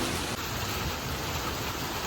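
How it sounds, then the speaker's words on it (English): Heavy wind-driven rain pours down in a dense, unbroken roar, a loud constant wash of water with no pauses or voices across the short stretch. "Raining sideways"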